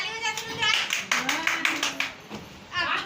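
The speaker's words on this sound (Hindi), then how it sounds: "चल बेटा ताली बजा दे" A child claps hands in a series of quick, light claps at home, mixed with people talking nearby throughout.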